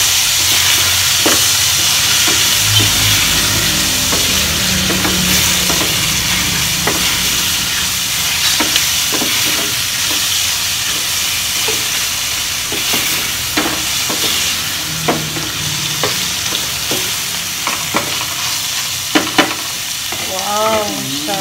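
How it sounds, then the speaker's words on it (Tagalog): Onion and garlic frying in a pan give a loud, steady sizzle with occasional stirring clatter throughout, close by, with no talking. "Lagay ko na yung sibuyas at bawang."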